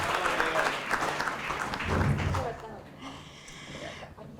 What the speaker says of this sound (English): But another applause for the panelists.